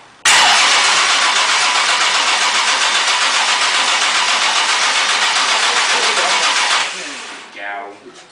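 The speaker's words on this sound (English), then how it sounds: "crank it some more" An engine cranks at length with a steady, loud, rhythmic churning, then catches briefly and sputters as the cranking stops, with some background noise and no clear talking.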